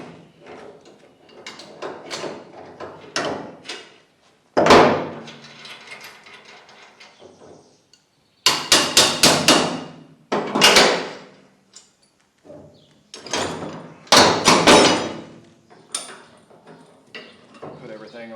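Clanking metal knocks and rattles as pins are driven out of farm vehicle equipment, several loud close strikes in uneven bursts separated by pauses, with someone speaking briefly in between.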